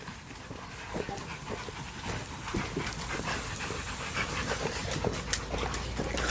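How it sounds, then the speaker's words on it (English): Several dogs panting steadily with occasional soft whimpers, fairly close and continuous, mixed with scuffling and outdoor background noise, no talking. "Let me go get the dogs."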